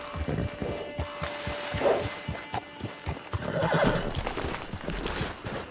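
In the Red Dead Online video game, a horse whinnies while its hooves clip-clop in a steady rhythm on the ground. The horse is close and fairly loud, and nobody talks.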